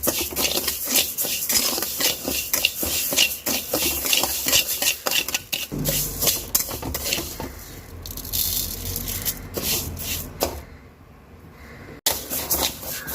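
A utensil scrapes and stirs raw rice and lentils roasting in an oil pan over medium heat, with continuous gritty rustling and frequent clinks against the metal, louder at first and then settling.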